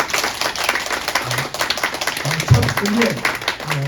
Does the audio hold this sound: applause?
yes